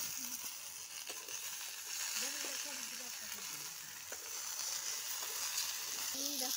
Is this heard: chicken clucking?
no